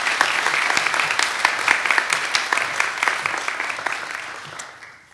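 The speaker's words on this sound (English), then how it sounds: "Let's give her a round of applause." Audience applause at a college scholars cording ceremony, a dense, steady clapping crowd sustained for several seconds before tapering off near the end.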